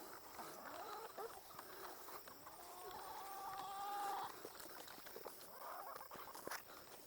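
Chickens on a farm cluck and call quietly at a distance, with one drawn-out squawk in the middle, over soft rustling and a few thumps in the background.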